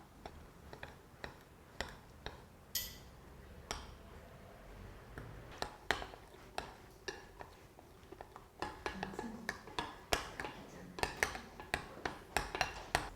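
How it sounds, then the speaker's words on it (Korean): A rice spoon stirs egg bread batter in a bowl, making a steady run of light clinks and ticks against the bowl's side that quicken toward the end, with no talking. "밥 숟가락을 사용해서 덩어리 지지 않도록 잘 저어주세요."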